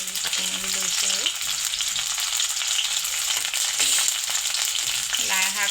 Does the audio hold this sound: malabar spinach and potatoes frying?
yes